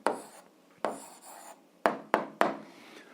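Pen writing out an algebra answer on paper, a few short scratchy strokes in quick bursts, close and fairly quiet with no voice.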